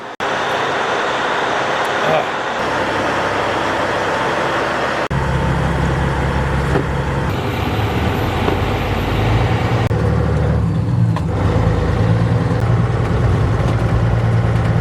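A farm truck engine runs steadily close by, a loud continuous low rumble that shifts pitch and load partway through, with wind-like broadband noise over it.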